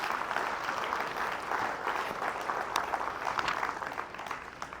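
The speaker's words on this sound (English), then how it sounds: "Give Don a round of applause, everybody" An audience gives a round of applause, with steady clapping from many hands that holds at an even level, heard from a moderate distance.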